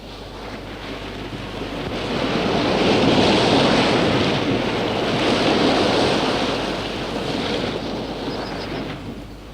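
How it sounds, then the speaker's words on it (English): Sea waves break steadily on the shore at Crookhaven, swelling and easing in a continuous rushing wash, with gusts of wind noise and no voices. "it is invaded by the sounds and colours of the sea"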